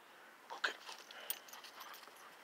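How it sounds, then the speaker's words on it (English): A dog whimpers close by in a few short, high, quivering whines, quiet and uneven over low background hum. "This time I got my dog with me."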